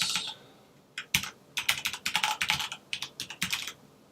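A username and password being entered on a computer keyboard during a FreePBX setup. Close, quick clusters of key clicks come in irregular bursts after a quiet start.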